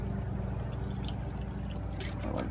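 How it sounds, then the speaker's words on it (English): Water is poured into a bowl of batter mix containing flour and a cracked egg, heard as a close, steady splashing trickle lasting a couple of seconds. "Then we're going to add some water to it."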